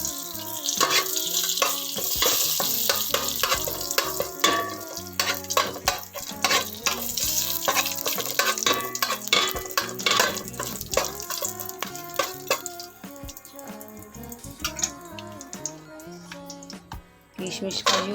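Bay leaves and whole garam masala frying in a pan, crackling and spattering close up with stirring clatter throughout, for fried rice with potato dum.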